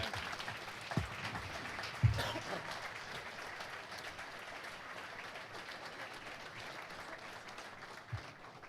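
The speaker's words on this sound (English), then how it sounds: "one more round of applause" Faint, distant applause rolls on steadily from a crowd at an athletics hall of fame ceremony, with a couple of louder thumps near the start.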